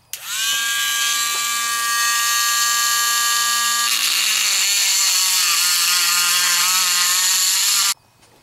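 A sustained high-pitched grinding whine from a small rotary tool milling a metal coin ring thinner, loud and steady for several seconds, shifting slightly in tone midway, then stopping abruptly.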